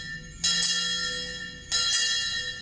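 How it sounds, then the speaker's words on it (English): Bells ring out at a Georgetown Constitution Day celebration, two bright clanging strikes about a second apart, each left to hum and decay over a steady outdoor hush. "The bells ringing"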